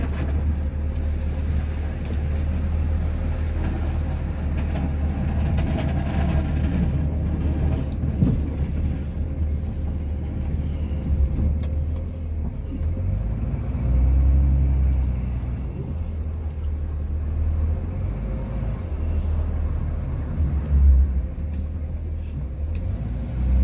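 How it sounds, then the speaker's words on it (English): A Cummins Ram diesel truck engine idles while warming up at minus 17 degrees, a steady deep rumble that stays loud and close throughout with slight swells and no voices. "Truck's not even quarter of the way warmed up yet. Freaking diesels, minus 17."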